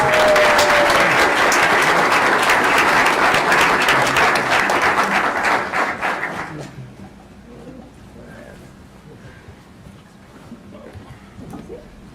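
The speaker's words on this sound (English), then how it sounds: "Let's give them a round of applause." At a school board meeting, the audience gives a round of applause for two principals. The clapping is loud and steady for about six seconds, then drops away to quiet room tone with faint scattered sounds.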